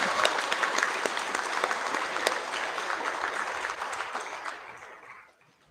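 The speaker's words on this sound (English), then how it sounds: "Let's give a round of applause for our top Year 11 engagement" A school assembly crowd at a Year 11 prize giving claps in sustained, dense applause that holds steady for several seconds and then fades away near the end.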